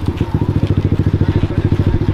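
A motorbike engine runs close by on a film shoot, giving a loud, steady, rapid low thumping with an even pulse throughout and no break.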